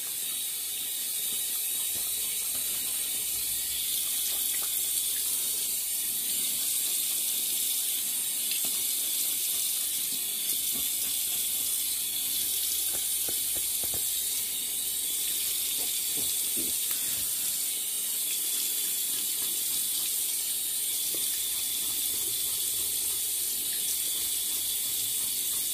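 A water tap runs steadily at a sink for wetting the face before a shave, a constant faint hissing splash with small clinks throughout.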